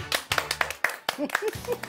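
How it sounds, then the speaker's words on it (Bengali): An audience claps loudly on a Bengali game show, in sharp, close, separate hand claps at an uneven rhythm, with a few vocal sounds mixed among them. "একটা জোরে হাততালি"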